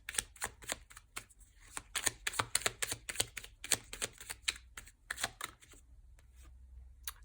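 Oracle cards riffled and drawn from a deck, a run of quick crisp flicks and snaps in uneven bursts, fairly quiet and close, trailing off into softer single taps near the end.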